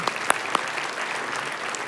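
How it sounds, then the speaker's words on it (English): A civic audience at Mesa's 2023 State of the City event claps loudly in a short, full burst of applause to honor the fire department on its 125th anniversary. "That's okay to clap for them."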